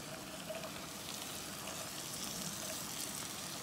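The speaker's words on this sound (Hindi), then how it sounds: "ये प्याज मेरी फ्राई हो रही है" Onion and okra frying in a pan, a faint, steady crackling sizzle with a soft hissing texture, continuous and unbroken for a few seconds.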